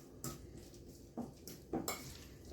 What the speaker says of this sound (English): going to mash those up with just a fork